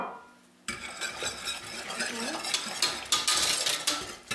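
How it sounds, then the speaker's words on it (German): A spoon stirs sugar into hot milk in a pot for homemade vanilla pudding. Metal scrapes and clinks against the pot in an irregular run after a quiet start, close and fairly loud. "Wir rühren das einmal durch und warten noch kurz, dass der Zucker sich auch wirklich ganz aufgelöst hat"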